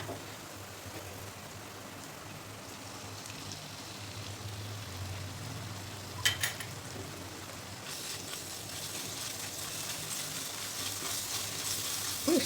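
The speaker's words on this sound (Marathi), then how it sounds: "तर थोडंसं तेल घालायचं आहे आपल्याला आलं लसूण पेस्ट परतून घेण्यासाठी" Ginger garlic paste frying in a little oil in a pan, a quiet, steady sizzle with a brief louder crackle midway and a slightly brighter hiss toward the end.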